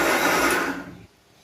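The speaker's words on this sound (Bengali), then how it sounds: "এবার মিক্সিতে ব্লেন্ড করে নেব।" A mixer grinder whirs loudly as it blends soaked red lentils with a little water, running steadily for about a second before cutting off abruptly and leaving quiet.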